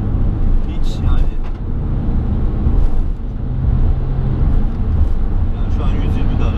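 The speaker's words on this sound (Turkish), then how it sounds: "Yani şu an 120 de araba." A Ford Connect van cruising at 120 km/h, a steady low engine and road drone filling the cabin, heard under someone talking throughout.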